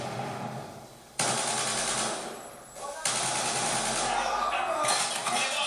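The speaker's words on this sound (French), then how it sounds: "la MK48 elle est vraiment énorme" MK48 machine gun in an online shooter game, heard as dense, loud rapid-fire bursts that cut in abruptly and rattle on continuously, with a brief pause between strings of fire.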